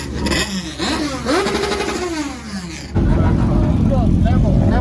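A Lamborghini pulls away from an underground car show as police break it up, its engine rising and revving loudly amid crowd chatter and excited voices, then a louder, denser roar of passing vehicles takes over.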